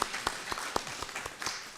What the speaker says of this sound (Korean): 박수로 환영합니다.